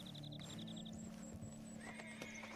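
A horse whinnies repeatedly in Red Dead Redemption 2, a short series of evenly spaced high calls followed by a longer descending neigh. Steady hooves clip-clop and game ambience run underneath.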